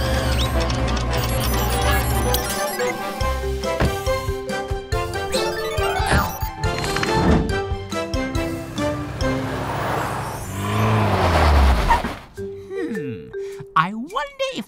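Tilly Tow Truck, a cartoon tow truck, drives off amid a busy, loud stretch of cartoon music and effects. Revving, whooshing movement swells toward the end, then cuts to sparse tones.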